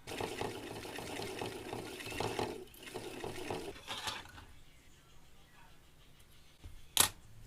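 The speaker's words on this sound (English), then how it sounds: "I'm gonna wind some 4-pound Vanish on it." An inline ice fishing reel whirs as 4-pound line is wound onto its spool, a soft, near mechanical buzz that fades and ends with a brief sharp click.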